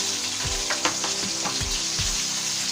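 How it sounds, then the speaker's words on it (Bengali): Onion fries in soybean oil, a loud, dense sizzle up close, with several soft thumps and scrapes of a spatula stirring the pan at irregular intervals. "আমি এখানে সয়াবিন তেল দিচ্ছি 1/3 কাপ, দিচ্ছি এখানে পেঁয়াজ"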